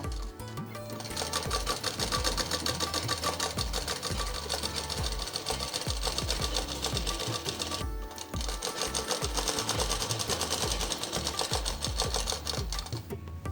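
Sewing machine stitching the side seam of a plain cotton frock, a steady loud rapid mechanical whir and clatter running continuously, with a brief pause near the middle before resuming.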